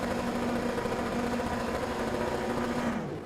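Race car engines on the grid at a Silverstone race in a racing video game make a continuous droning buzz that holds steady, dense and loud, then eases slightly near the end.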